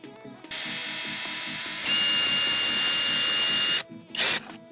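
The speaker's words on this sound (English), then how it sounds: "Now the first thing I've got to do is drill out that bracket" A power drill fitted with a Torx bit drills out a fixing bracket in plasterboard, whirring steadily at one speed, then rising to a higher pitch before stopping, followed by a brief second burst.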